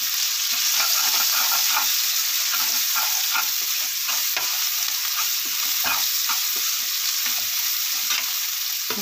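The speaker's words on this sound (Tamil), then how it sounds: "எல்லாம் நல்லா வதக்கி விட்டுடலாம்." Onion with turmeric and chili powder sautéing in a pan for egg kurma, a steady close sizzle with frequent scraping stirs of a spoon, no talking.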